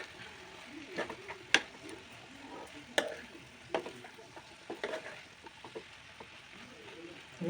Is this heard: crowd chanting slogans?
no